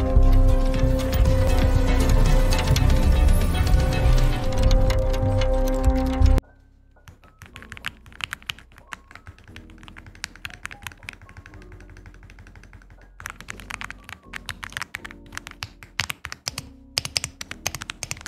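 Typing on an Aula F75 mechanical keyboard with Greywood switches, heard as dense keystrokes under loud background music for six seconds, then clear, close, irregular clacky key presses alone.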